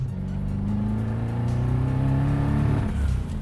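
A twin-turbo V8-swapped BMW E30 with about 800 horsepower accelerates hard, its loud, deep engine note climbing steadily in pitch over a few seconds with no pause.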